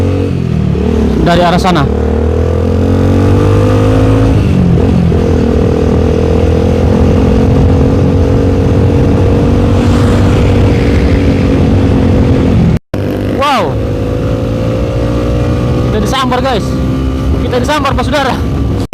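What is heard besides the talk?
motorcycle revving and riding at night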